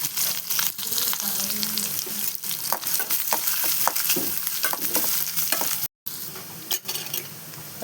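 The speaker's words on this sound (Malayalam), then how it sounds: "ഒരു രണ്ട് ടേബിൾ സ്പൂണ് തേങ്ങ ചിരകിയതും ഒരു അഞ്ചെട്ട് ചെറിയ ഉള്ളി മുറിച്ചതും കൂടി ഇട്ടിട്ട് നല്ലോണം വറുത്തെടുക്കാം" Grated coconut and sliced shallots fry in a pan with a steady, loud sizzle, punctuated by repeated scrapes and taps of a spoon stirring close by.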